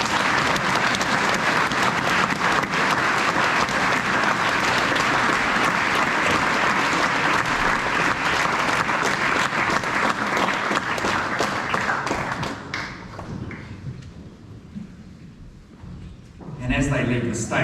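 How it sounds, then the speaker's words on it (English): Students and staff at a New Zealand high school assembly give a long, loud round of applause that carries for about twelve seconds, then thins out and fades, with voices rising at the very end. "Let's give them a round of applause as they do that"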